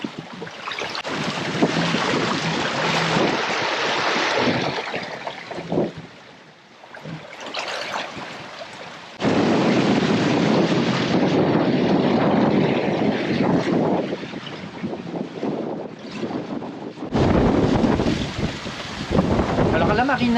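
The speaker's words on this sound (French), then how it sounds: "Ça commence à faire glou glou glou glou glou derrière le bateau à 5 nœuds" Wind-buffeted rushing and gurgling water behind a sailboat motoring at about 5 knots, with a steady engine drone underneath and gusty microphone noise throughout.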